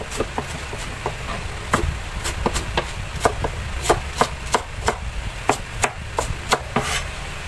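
A knife chops onion on a board, sharp dry taps in quick irregular runs, close and clear over a quiet background with no talking.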